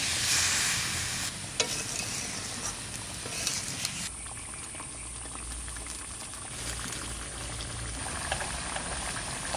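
Egg curry simmering in a pan as water is added: a steady close bubbling and sizzle with brief stirring scrapes, the hiss louder in the first four seconds and then settling into a softer, even boil.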